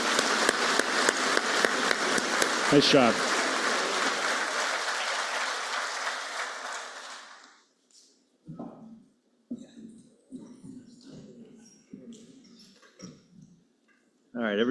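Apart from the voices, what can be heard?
audience applause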